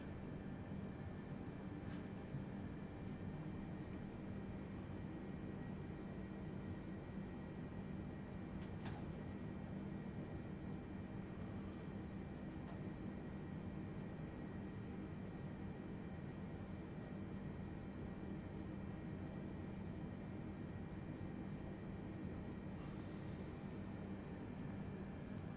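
An F1 cargo aircraft's engines drone steadily as it taxis before takeoff at Stansted airport, a low, continuous hum heard from inside the cockpit, faint and even with only a few brief clicks.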